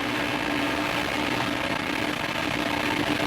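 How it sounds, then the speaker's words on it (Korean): An Ariane 5 rocket lifts off carrying the Cheollian 2B satellite, main engine and side boosters firing in a dense, steady broadband roar that stays loud and unbroken throughout. "메인 엔진은 점화가 됐고 사이드 부스터가 점화가 되면서 로켓이 이륙하고 있는 화면이 지금 나오고 있습니다"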